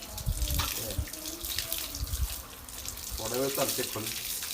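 Water runs from a tap while a dog is being bathed on a hot summer day, a steady splashing rush with voices talking over it.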